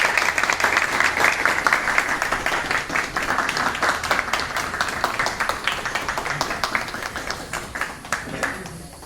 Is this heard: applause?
yes